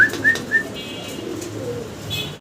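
Lahori pigeons cooing in a pen, a few soft repeated coos close by, with faint background noise and no talk.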